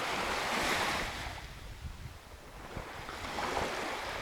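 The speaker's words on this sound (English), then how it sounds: "Oh, but it's windy here sometimes." Gusty wind rushes past in broad, breathy swells with surf washing underneath on Turkey's Lycian coast, rising and easing across the whole stretch with no one speaking.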